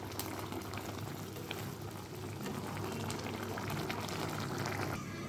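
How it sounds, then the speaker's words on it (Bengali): Prawn malai curry with garam masala and slit green chilies simmering in a pan, giving a continuous, close bubbling and popping boil that stays even from start to finish, with no voices. "আর কিছুক্ষণ ফুটিয়ে নিলে একদম রেডি আমার"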